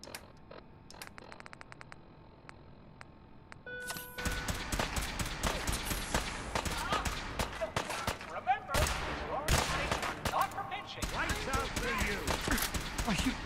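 Gunfire in the Fallout 4 video game: a few sparse shots at first, then dense, loud bursts of rapid shooting with impacts that keep going throughout.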